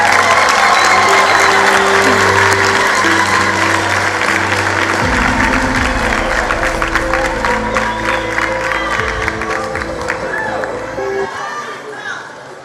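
A large audience at a matric results announcement applauds loudly and steadily for the full stretch, with some crowd chatter and a few cheers mixed in, tapering slightly near the end.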